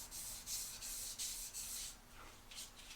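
Engine crankshaft journals are polished by hand during a Fox Body engine rebuild, producing soft repeated rubbing strokes in a regular back-and-forth rhythm, close and fairly quiet.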